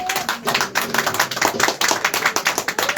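A church congregation claps in dense, continuous applause during worship, with irregular bursts of hand claps throughout and a faint voice underneath.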